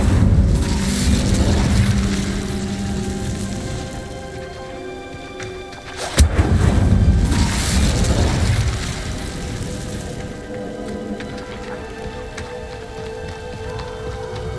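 Incendio fire spell cast in Hogwarts Legacy: a sustained roaring, crackling whoosh of flame with a sharp burst in the middle, loud and continuous throughout.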